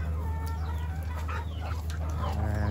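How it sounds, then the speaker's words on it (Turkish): Several chickens and village roosters from a mixed flock cluck and squawk in quick overlapping calls, near and fairly loud, over a constant low hum outdoors. "Köy horozları."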